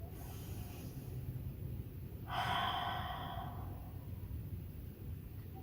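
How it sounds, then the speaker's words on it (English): A single slow inhale through the nose during yoga practice, a soft airy hiss rising for about a second, faint and close against a quiet room. "Let's take 3 breaths here."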